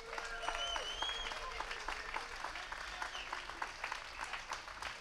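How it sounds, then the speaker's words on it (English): Audience applause at Emajamaa, a world music festival: a steady wash of clapping from a crowd, moderately distant and fairly quiet, with whistles and cheering voices mixed in. "So please, a big applause to the whole organization, to this beautiful"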